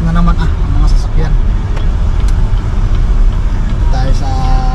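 Cars and other road traffic hiss past on a wet road, a loud, steady roadway rush with passing engine swells and scattered background noise throughout.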